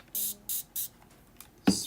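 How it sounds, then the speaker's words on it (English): Several short hissing bursts from a spray bottle misting water onto watercolor paint, three quick sprays in a row followed by a faint fourth and a sharper final puff, close and fairly quiet. "spray with water."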